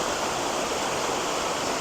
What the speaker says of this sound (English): showing just how powerful this waterfall is today